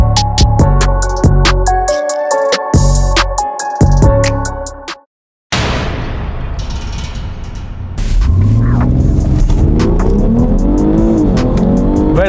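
A BMW X3 M40i crossover accelerating hard in a race against Audi S3 and S4 sports cars, its engine roaring loud and close with rising revs through gear changes, a brief dropout, then sustained high-revving engine noise.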